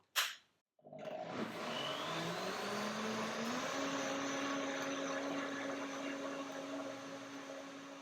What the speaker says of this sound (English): Another blender dance right now.